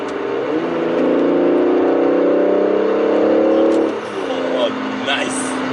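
An Aston Martin DB11 V12 in Sport Plus mode revs loudly and steadily after a downshift, then the engine note drops and settles into a lower drone heard from inside the car.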